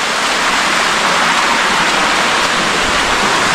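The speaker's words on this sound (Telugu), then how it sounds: "వాటర్ ఫ్లో అయితే నెక్స్ట్ లెవెల్ ఉన్నాయి దారుణంగా." Heavy monsoon runoff and rain pour at Lohagad Fort near Lonavala, a loud, dense, unbroken roar of rushing water that fills the whole scene with no pauses.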